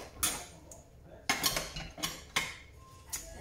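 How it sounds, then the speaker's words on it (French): Dishes being washed by hand at a kitchen sink: several sharp clinks and clatters of plates, pots and cutlery in irregular bursts, fairly close, with no talking. "Moi, je fais ma vaisselle."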